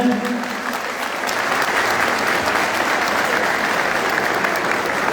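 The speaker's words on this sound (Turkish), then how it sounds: "Celal Başkan'ın nezdinde Ataşehir örgütüne ve kendisine de bir alkış istiyorum öncelikle" At a political party thank-you gathering with the Ataşehir mayor, the audience claps steadily in a dense, even wash of applause, with a brief voice at the very start.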